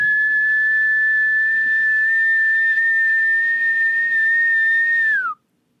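A person imitating a whistling heard in the woods whistles one long, loud, steady note for about five seconds, then it drops in pitch and cuts off.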